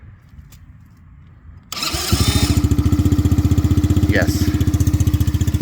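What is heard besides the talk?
125cc ATV quad engine starting and running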